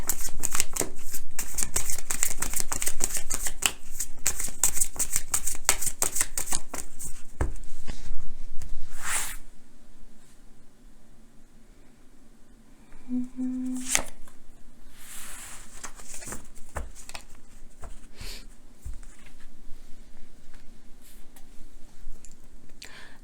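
Tarot cards shuffled for an advice card in a long, dense run of rapid close shuffling for about nine seconds, then a quieter stretch with a few sharp card flicks and soft handling noises.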